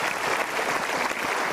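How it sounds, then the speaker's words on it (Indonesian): A short burst of audience applause fills a talk-show hall, dense steady clapping throughout. "Kita berikan tepuk tangan dulu."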